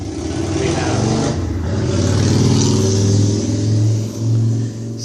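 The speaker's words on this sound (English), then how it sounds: "Sorry about the motorcycle." A motorcycle engine revs loudly as it passes close by, a rough droning roar rising and falling with gear changes and a voice faintly under it.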